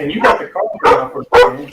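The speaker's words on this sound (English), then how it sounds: "That's my dog." A pet dog barks three or four times in a sharp, fairly loud, close-up series during a Zombicide tabletop game session, mixed with people talking.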